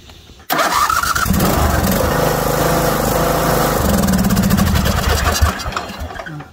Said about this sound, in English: Absolutely no hesitation from that starter.